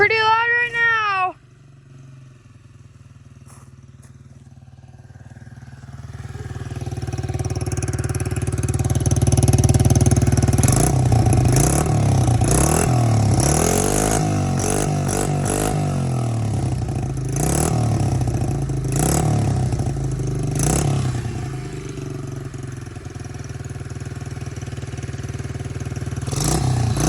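A loud pit bike engine starts and runs, settling into a steady rumbling idle with rising revs and clattery mechanical noise, close by. Brief talk comes at the start, and occasional sharp clicks punctuate the engine.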